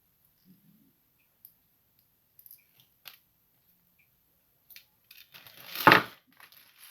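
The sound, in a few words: cutters cutting off part of a sugar glider toy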